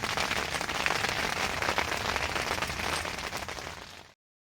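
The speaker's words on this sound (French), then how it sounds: "Une sacrée grêle là." Heavy hail pours down steadily at a carp fishing competition, a dense, loud drumming on surfaces that stays constant for about four seconds before cutting off abruptly.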